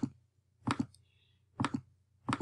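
Sharp clicks from a computer mouse on a desktop PC, four quick distinct presses spaced across a quiet background with a faint steady hum.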